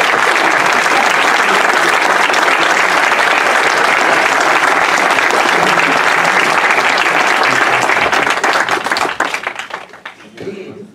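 An audience at a book fair in Curicó applauds at the end of an author's talk. The clapping is dense, close and sustained for about nine seconds, then quickly dies away.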